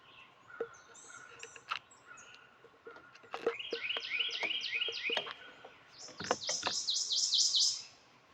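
Small birds chirp and trill outdoors in quick repeated phrases, several calls overlapping and growing busier toward the end, fairly near against a quiet background.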